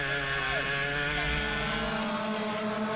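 Racing kart engines at a Club100 lightweight sprint race at Red Lodge, a continuous loud buzzing drone with harmonic tones shifting slightly in pitch, close up and steady throughout.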